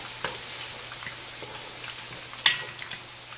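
Onions sauté in a pan over moderate heat, giving a soft, steady sizzle with a few light crackles and one sharper spatter near the end, close and without talk.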